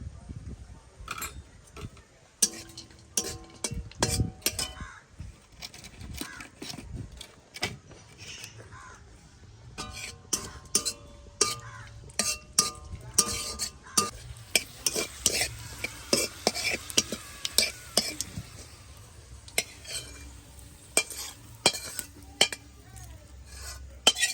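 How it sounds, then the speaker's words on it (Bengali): Cashews and raisins frying in ghee while a spatula stirs them around a pan, producing rapid repeated scraping and clinking strokes over a soft sizzle, with crows cawing faintly in the background. "এবারে কিন্তু দিয়ে দেবো কাজু কিশমিশটা, দিয়ে ভেজে নেবো"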